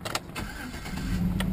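A 2007 Chevrolet Tahoe LTZ with a 5.3-liter V8 starts up with a short crank and catch, then settles into a steady, close idle rumble.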